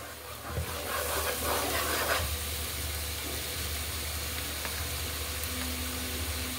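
Garlic paste sizzles in a hot pan for a Kashmiri-style potato dum, a steady broad frying hiss that stays loud and even throughout with no talk over it.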